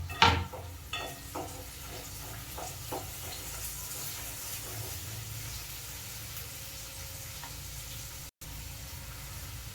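Onion and capsicum sizzle steadily in a pan while being cooked for Indian-style vegetable pasta, a continuous close hiss with a few stirring knocks early on and a brief dropout near the end.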